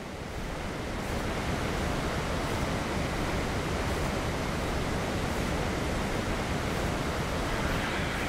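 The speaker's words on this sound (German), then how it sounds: "Ich wünschte, die würden den Wasserfall mal ein bisschen leiser machen" Loud, steady rushing water of a waterfall in the game Ark: Survival Evolved, a dense continuous roar that holds unchanged from start to end with no voices over it.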